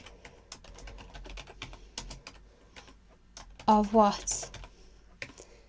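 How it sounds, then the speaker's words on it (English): Rapid clicking of computer keyboard keys while data is typed into an Excel spreadsheet, irregular taps close by, with someone talking briefly over the typing. "We're now going to type in just a couple of information just to give you an idea"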